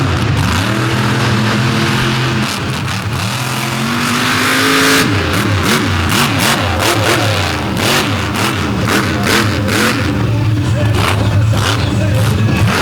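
A pulling truck at the Fowlerville Throwdown roars at full throttle, its engine revving hard and climbing in pitch before surging again, loud and close throughout with a crowd and an announcer's voice faintly mixed in.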